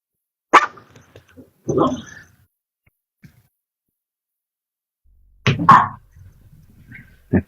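A small Chihuahua barks in short, sharp yips, a few scattered bursts separated by long stretches of quiet, fairly close by.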